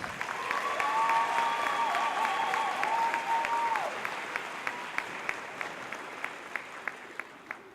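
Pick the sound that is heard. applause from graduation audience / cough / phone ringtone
applause from graduation audience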